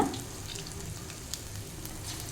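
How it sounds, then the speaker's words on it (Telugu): Sweet corn cutlets made with semolina fry in hot oil, giving a continuous soft sizzle and crackle close up with a faint pop now and then. "వీటిని నూనెలో ఎర్రగా వేయించుకోవాలి"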